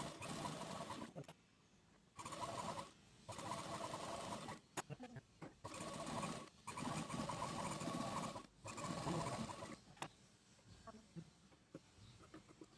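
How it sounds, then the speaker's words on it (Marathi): A sewing machine stitches the lining onto a blouse sleeve, its motor whirring in several short, close bursts with brief pauses between runs. "अस्तरला दापटीप देऊन घ्यायची आहे"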